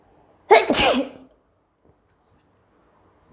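One sharp, loud sneeze, triggered by tickling the nose with a blade of grass and a leaf, bursts out close to the microphone and trails off into near silence.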